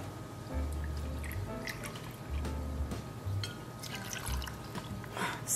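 Empress 1908 Indigo gin is poured into a measure, giving a soft, quiet trickle and dribble of liquid with a few low thumps of handling, close and faint.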